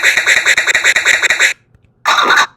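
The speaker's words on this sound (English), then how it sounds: "I'm hitting the 0 button, and it's triggering the chirp scratch" Quick rhythmic chirp scratches triggered from a PMØS_10a Skratch-Video Sampler in a tight, loud run, a short silence, then one more brief burst of scratching.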